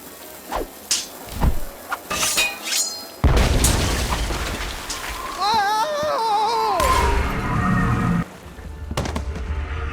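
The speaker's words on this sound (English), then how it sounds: "Light the cannon!" A cannon fires in the video game Tales of Monkey Island: a deep booming blast erupts after some short effects, followed by a long rumbling roar with a warbling tone over it, loud and close.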